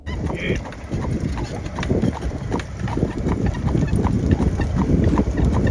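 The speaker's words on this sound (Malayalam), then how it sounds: "ഇനി ഞങ്ങളുടെ യാത്ര കുതിരവണ്ടിയിൽ" Horse hooves clip-clop in a steady, close rhythm as a horse-drawn buggy carries visitors along a road through an Amish village in America, with a constant rolling background and voices underneath.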